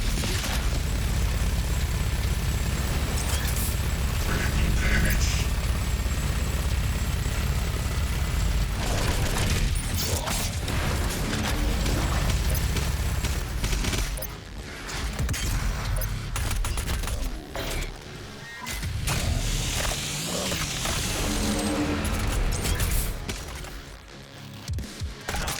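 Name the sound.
mobile turret weapon firing in video game Doom Eternal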